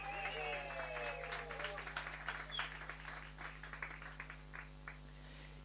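Scattered audience clapping at a sales workshop and expo in Gugulethu, irregular close claps that thin out and fade over several seconds, with a short whistle and cheer at the start.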